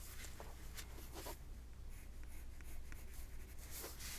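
Colored pencil shading lightly over pen lines on paper, a soft continuous scratchy scraping with brief strokes, close and fairly quiet, no talking.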